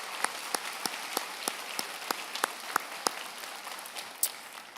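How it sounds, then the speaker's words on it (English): Scattered applause at a college convocation ceremony: a sparse, steady patter of individual claps with sharper accents, moderately near, no voices over it. "Let's give them a round of applause"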